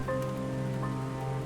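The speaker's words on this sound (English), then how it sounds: "Towards the end of the hour, the rain started to subside" Steady rain falls outside during a night story session, a dense continuous patter with a low background drone, constant and fairly loud with no voices.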